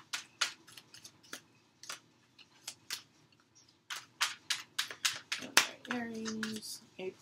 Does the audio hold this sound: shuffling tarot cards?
yes